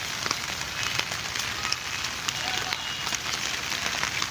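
Steady rain patters on a rooftop in a broad, even hiss, with scattered brighter drop impacts throughout; the downpour holds at a moderate, unbroken level without any voices.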